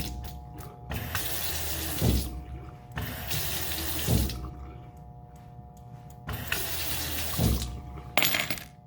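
Water runs from a tap into a sink in bursts, stopping and starting as hands are rinsed, with small clinks in between.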